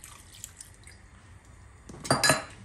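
Water poured into a pot of chicken on the stove before boiling, heard as a short, fairly close splash and trickle near the end after a quiet kitchen pause.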